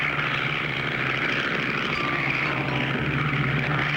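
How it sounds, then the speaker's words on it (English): Cartoon propeller airplane flying low over canals, a steady droning engine hum held at an even, fairly close level throughout. "Maybe if you flew lower over these canals."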